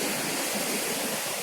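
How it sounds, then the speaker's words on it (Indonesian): Ocean surf washes steadily at a traditional fishing harbour on the Pariaman coast, a loud, continuous broadband roar with no distinct breaks and no voices. "Memang sama juga dengan ombak ini. Kadang-kadang hempasannya kuat sekali, kadang-kadang malah lembut"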